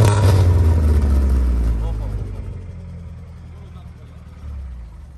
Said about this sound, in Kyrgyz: Газдан бериңиз, газдан.